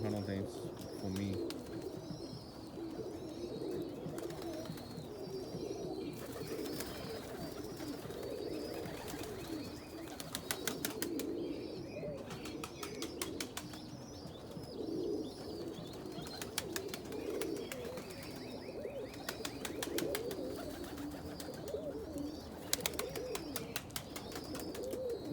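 Pigeons coo softly and steadily through a quiet morning feeding, with overlapping low calls, occasional wing flutters and light background chatter.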